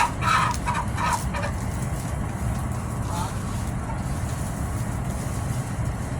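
Shamo chickens feed in the evening with clucking, and a few sharp calls come early over a steady background hum.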